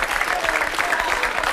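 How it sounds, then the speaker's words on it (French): Brief burst of crowd applause at a live show after a bear act, steady dense clapping from an audience, loud and continuous through the short moment. "vous pouvez l'applaudir"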